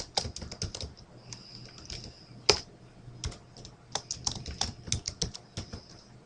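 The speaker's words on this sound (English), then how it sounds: "We're going to type in Tang Davis." Typing on a computer keyboard while entering a name into a spreadsheet cell, with bursts of close, crisp key clicks in an irregular rhythm and a few louder keystrokes, no voice over it.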